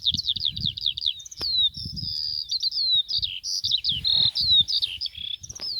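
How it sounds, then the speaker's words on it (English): A skylark sings high overhead on the Furness Peninsula, a continuous run of rapid, warbling and trilling phrases that carries on without a break, with soft low rumbling beneath. "we paused again a little further on to listen to the sound of a skylark high above us"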